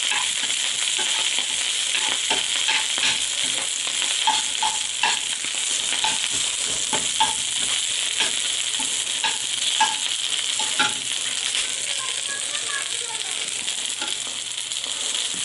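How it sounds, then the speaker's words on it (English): Dandelion greens cooking down in a pan, a loud continuous sizzle with crackling pops and occasional stirring scrapes throughout, no voices. "And you let it cook up like you do any greens."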